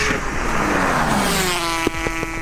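A 550 hp Toyota Supra and a 55 hp Aprilia RS250 motorcycle race past: a steady loud engine roar with a falling pitch sweep, then a burst of sharp revving and gear changes near the end.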